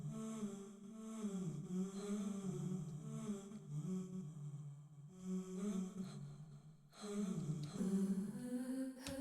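A vocal sample run through Ableton's Granulator 2 granular synth, its knobs tweaked, gives a smeared, shifting pitched drone that swells and dips, drops out briefly near the end, then returns louder, with no talking over it.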